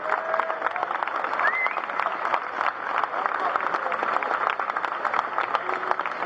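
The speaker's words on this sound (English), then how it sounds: "Let's have a nice big round of applause for both of our teams here." Steady crowd applause for two competing teams, dense clapping from many hands sustained throughout, with faint voices mixed underneath.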